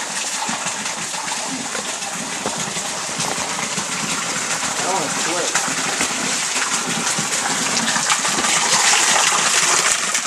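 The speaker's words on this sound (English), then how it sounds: "There it is, the big waterfall." Rushing water from a large waterfall on a nature hike in Ao Nang, Krabi roars steadily and close by, a dense continuous gush that swells slightly toward the end.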